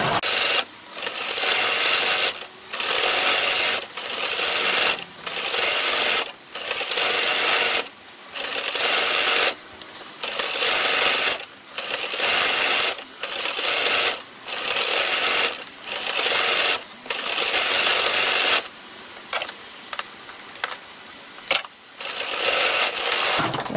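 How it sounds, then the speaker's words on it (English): Sewing machine stitching folded bias binding onto fabric bunting flags, running in repeated bursts of steady whirring with short pauses between, close and clear with no talk. "Fold the bias in half and stitch it together."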